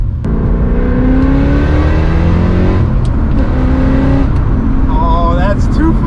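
A BMW E39 M5 with a Dinan Stage 2 exhaust revs loudly up and down nearby, its engine note rising and falling with crackling burbles, while a person talks over it.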